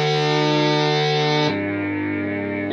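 A distorted synthesizer holds one buzzy, edgy note, loud and close, then shifts midway to a darker, duller tone with no voice over it.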